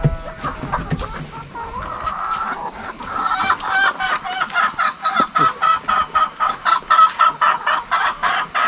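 A flock of chickens clucks close by, building into a steady rhythmic chorus of repeated clucks with some higher calls mixed in.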